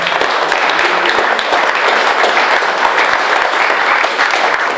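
Sustained applause from a gathered audience at the Roberto Ratto atelier, a dense, steady wash of many hands clapping close by throughout, with no talk over it.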